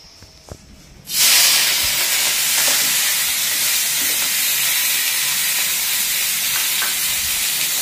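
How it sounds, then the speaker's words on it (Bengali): Shrimp and leafy greens hit a hot pan with a sudden loud sizzle after a quiet moment, then fry in a steady, close hiss of oil and steam. "চিংড়ি মাছ আর শাক রান্না করতে মাম।"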